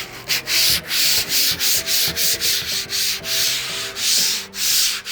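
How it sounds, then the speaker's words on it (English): Sandpaper rubbing original paint off a metal griddle, rhythmic back-and-forth scratchy strokes, roughly two per second, close and alone. "I decided to sand the original paint a bit to help the new coat adhere."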